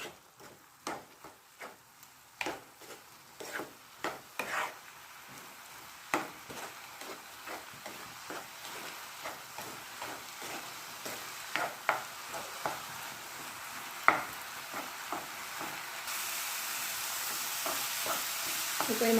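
A spoon stirs chili powder and garam masala through a frying pan for a macaroni pasta dish, giving irregular scraping strokes over a faint steady sizzle that builds louder toward the end.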